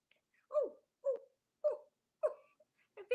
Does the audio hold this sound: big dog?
yes